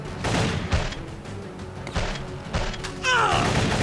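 Gunfire in the shooter game Secret Service: a burst of sharp shots and thuds over about four seconds, loud and close, with a faint voice in the background.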